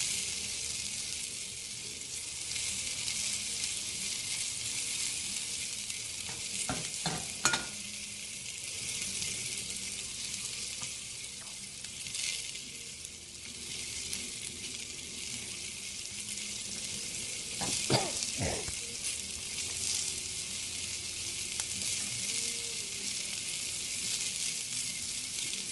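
Shrimp frying in oil in a pan for shrimp scampi, a steady bright sizzle running throughout with a couple of brief clinks or stirring sounds, no talking.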